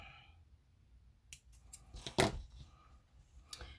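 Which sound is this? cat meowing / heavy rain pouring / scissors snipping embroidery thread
scissors snipping embroidery thread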